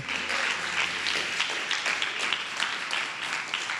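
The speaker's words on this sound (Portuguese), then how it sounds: "Glória a Deus, você pode aplaudir a Jesus." Congregation applause at a Brazilian church service, a dense spread of clapping hands with a low hum from the room underneath.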